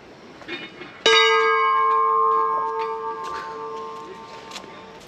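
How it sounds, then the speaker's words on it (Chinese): A bell struck once at a Nepalese temple, a sharp loud strike followed by a long ringing, slowly fading tone with clear overtones, over faint outdoor background noise. "敲钟"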